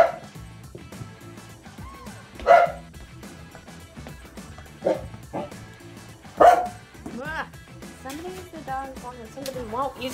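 A corgi barks a few times in sharp bursts, with whiny, yelping tones between them over a steady humming background.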